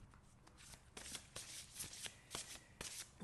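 A deck of oracle cards shuffled by hand before a single-card draw, giving steady soft riffling and flicking with brief louder snaps, close and alone.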